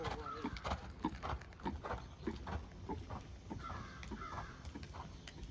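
Hooves of a horse named Stilts drum out a rhythmic canter during a riding lesson, repeated thuds mixed with crow caws and outdoor noise, moderately distant.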